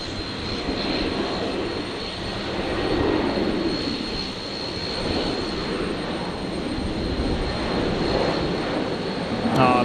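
An aircraft taxis into the apron at Brisbane Airport at night, giving off a steady, broad jet-engine roar with a faint high whine, moderately loud and continuous, with no speech.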